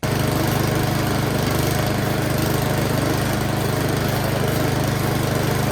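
A snow blower engine idles steadily as it warms up, a loud, even mechanical drone with a low pulsing rumble that runs unbroken throughout.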